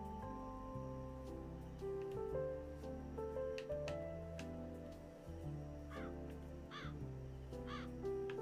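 A bird cawing in the video game Calico, a few short, harsh calls in the second half over gentle, steady tonal background music.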